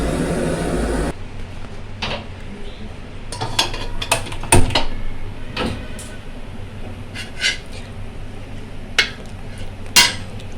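A metal wok is set on a lit stove before oil goes in for chana dal fritters, with scattered sharp clinks, knocks and utensil clatter over a steady low hiss from the stove.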